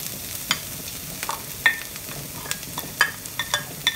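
Shredded cabbage stir-fried with softened onions in a pan for a vegetable stir fry, a soft continuous sizzle punctuated by sharp spatula clicks and scrapes.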